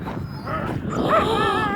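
Sled dogs whine and yip excitedly nearby in Yakutia, with high whimpering cries over a low background murmur.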